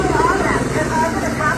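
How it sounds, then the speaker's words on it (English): Police helicopter flying overhead, a continuous low rotor drone with a faint pulsing beat, heard under someone talking loudly. "Cussing out a police helicopter is hilarious."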